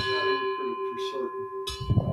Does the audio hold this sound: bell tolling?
yes